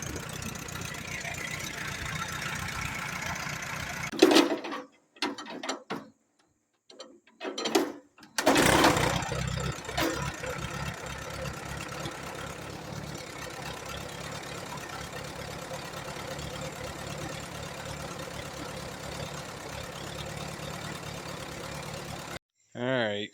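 A 1938 Allis Chalmers B tractor with a rebuilt Zenith 12522 carburetor stutters through a few rough catches and stalls, then settles into a steady, even idle running close by for over ten seconds.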